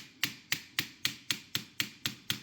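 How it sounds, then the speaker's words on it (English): A plastic hammer taps an MP5 lower trigger housing during disassembly and refit: eight sharp, even knocks roughly a third of a second apart, close up and clear with no voices. "give it a little tappy tap with the plastic hammer"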